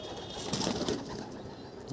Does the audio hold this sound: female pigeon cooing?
yes